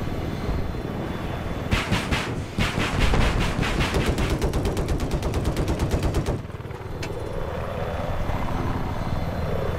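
An attack helicopter in Battlefield 4 roars loudly with fast rhythmic rotor chop, then bursts of rapid machine-gun fire, before the rotor drone carries on alone.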